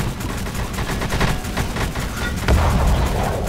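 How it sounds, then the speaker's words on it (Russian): An anti-aircraft gun firing in the Roblox naval game Dead Ahead, a loud, fast stream of heavy repeated shots with a stronger booming burst near the end. "я из зенитки по вам фигарю"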